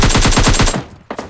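Rapid automatic gunfire from a bot in a mobile shooter game, a loud steady burst of about a dozen shots that cuts off, followed by two brief softer knocks.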